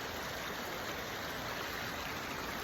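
Water flowing steadily in a small stream that feeds San Leandro Creek, a continuous broadband rush with foam on the surface, close and even throughout with no voices.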